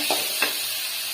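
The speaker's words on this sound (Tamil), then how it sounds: "போட்டு நல்லா வதக்குங்க." Tomato and coriander stirred into onions sautéing in a pan for chutney, a soft sizzle under two quick spoon scrapes close by.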